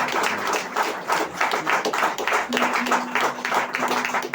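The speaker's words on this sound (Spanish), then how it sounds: "Aleluya, aplauda al Señor." A church congregation at a Sunday service claps in a steady, fairly even rhythm, moderately close, with a faint sustained voice or hum running beneath the hands partway through.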